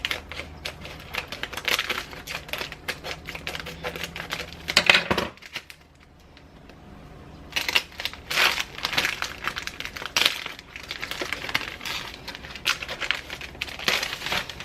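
A package for soy-sauce-and-sugar musubi being cut open, heard as close crinkling of plastic wrap and rapid clicking snips in bursts, with a brief quiet pause midway before the crackling resumes.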